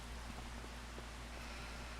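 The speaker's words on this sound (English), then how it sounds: "especially since it's raining" Rain falling in the farming video game Farming Simulator 25, a steady, even hiss of dense drops with a low constant hum underneath, no voices.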